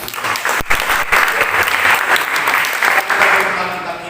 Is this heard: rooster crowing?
no